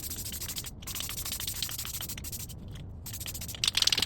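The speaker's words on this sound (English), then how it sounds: "I can actually spray the whole thing." Bedliner coating hisses from a spray gun onto a truck brush guard for a 2005 Z71 Suburban, a steady close airy spray with a few brief gaps between bursts.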